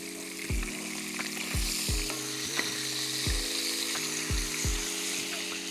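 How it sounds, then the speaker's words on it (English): Mackerel fillets, just flipped, sizzle steadily in hot olive oil in a pan, a constant close hiss broken by a few soft low thuds, with no talking. "So now I'm just gonna flip them over."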